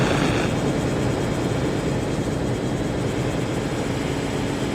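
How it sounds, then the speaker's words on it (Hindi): A drone flies in a squad battle-royale video game, producing a loud, steady whirring rotor drone. It holds constant and unbroken throughout, with no speech over it. "उन्होंने ड्रोन हिट दिया था।"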